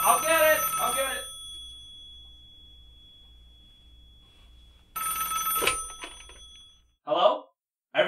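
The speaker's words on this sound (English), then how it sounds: "the phone's ringing" A telephone rings in short bursty trills, a couple of rings separated by a long quiet gap, with voices talking briefly at the start and end.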